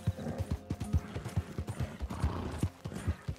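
Rapid, close hoofbeats of a galloping horse in the video game Red Dead Redemption 2 pound in a quick rhythm, with a horse's neigh rising briefly over them.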